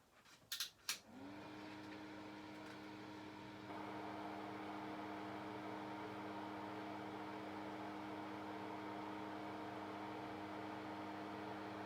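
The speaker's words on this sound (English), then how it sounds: "Despite it's the most cheapest Manrose Extractor fan, it's actually really nice running." Budget Manrose pull-cord extractor fan clicks on and settles into a steady, smooth electric hum with a faint airy whoosh, continuous and moderately quiet throughout.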